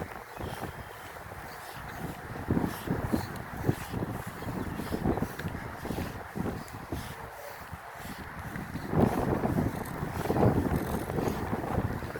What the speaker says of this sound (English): If the wind wasn't blowing, it'd be perfect.